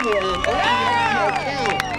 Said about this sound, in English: Getting the hugest applause they're claiming right now and they're all cheering for Nathaniel Curran